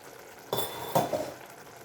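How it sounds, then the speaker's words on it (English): Vegetable sauce simmers in a pot with a soft background hiss, broken by two clinking stirs of a spoon against the pot around the middle, then settling back to a low bubble. "Let's allow this to simmer for about a minute before we add our shrimps"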